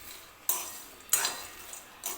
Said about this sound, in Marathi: ते शेंगदाणे मी या कढईमध्ये टाकून घेते